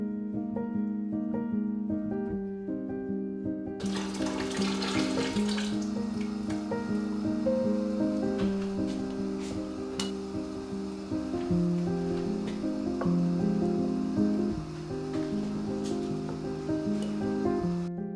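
Hot water pours and splashes steadily into glass canning jars, with clinks of glass and a rising pitch as the jars fill; no voices.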